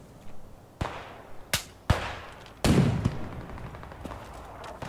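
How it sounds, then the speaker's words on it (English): Light machine gun in Squad 44, a WWII shooter, fired in several short sharp bursts and single loud cracks with gaps between them, the heaviest burst near the middle, no talk over it. "I got a little light machine gun ready for them"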